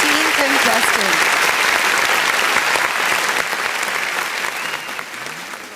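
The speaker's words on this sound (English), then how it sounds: "Give her a big round of applause." An audience at a pageant applauds a contestant with loud, dense clapping. The applause holds steady, then slowly fades, and a voice is briefly heard at the start.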